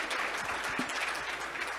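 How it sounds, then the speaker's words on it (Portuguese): An audience claps together in a sustained burst of applause, steady and fairly loud throughout. "uma salva de palmas, muito obrigado"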